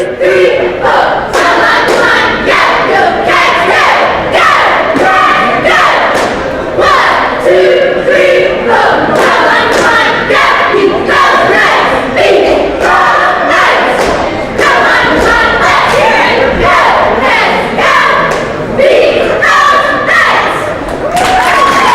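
A basketball game crowd in a gym cheers for the Seton Catholic Bobcat cheerleaders, loud and continuous, with rhythmic stomping thuds and shouted chants pulsing throughout.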